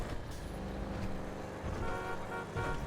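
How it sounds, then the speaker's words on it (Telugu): Car traffic jam in GTA 5, a dense wash of idling engines and road noise with occasional horn toots, steady and fairly loud throughout, no speech. "అరే ట్రాఫిక్ జామ్ అయిపోయింది గాయ్స్"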